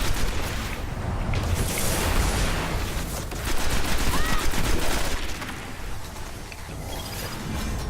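Rapid gunfire bursts and a grenade blast in a Destiny match, loud and continuous throughout with dense layered shots and booms, game voices faintly mixed in.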